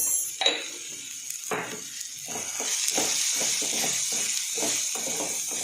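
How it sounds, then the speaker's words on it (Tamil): Ingredients for manathakkali vathal kuzhambu sautéing in a pan with turmeric and a little salt, giving a steady close hiss and sizzle broken by repeated short scraping stirs throughout. "நல்லா வதங்கிக்கிட்டு இருக்கு"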